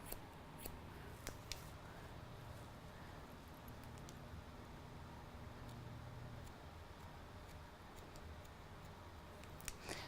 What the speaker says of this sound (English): And just literally take a scissor